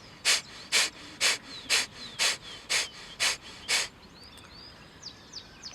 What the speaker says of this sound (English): And do another abrupt exhalation through your nose